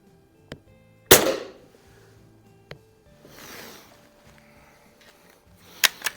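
A 1979 Benjamin model 347 pump air rifle fires pellets at an outdoor range: one sharp, loud crack, then smaller snaps and clicks, a brief soft rustle, and a second crisp shot near the end.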